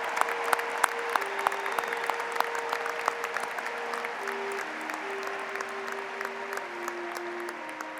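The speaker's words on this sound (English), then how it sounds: "Would the audience join me in applauding our newest EDDs," A university fall commencement audience applauds new doctoral graduates with sustained, even clapping from a large crowd, while a steady organ-like tone plays underneath.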